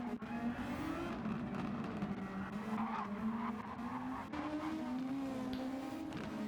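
Race cars in a GTO race at the Brazil Grand Prix roar off a corner, engines howling loud and continuous with rising pitch and some tire scrub, a dense steady wall of engine noise.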